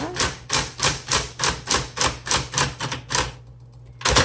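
Typing on a 1970s Smith Corona Coronet Super 12 electric typewriter: a steady rhythm of about a dozen loud mechanical key strikes, a short pause, then another strike.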